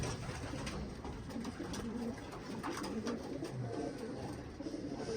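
Several pigeons coo softly and repeatedly, overlapping low murmurs amid a busy outdoor background hiss.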